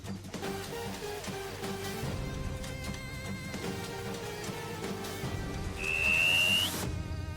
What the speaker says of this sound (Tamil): என்ன ஏதோ பூச்சி சத்தமா கேக்குது. என்ன சத்தம் அது? என்ன விசில் சவுண்டு?